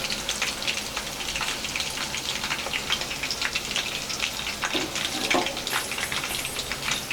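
Soya chunks deep-fry in oil with a dense, continuous crackle of fine popping bubbles, loud and steady throughout.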